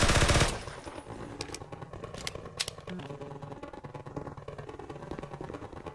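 Automated turrets in a Half-Life mod fire rapid, rattling bursts. A loud opening volley gives way to continuous clattering fire with sharp cracks cutting through.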